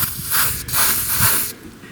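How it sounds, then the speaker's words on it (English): Close aerosol grease spray hisses in a few short bursts with brief pauses between, loud and airy, and no voices, while working on a John Deere riding mower. "First of all, though, I'm going to spray some grease."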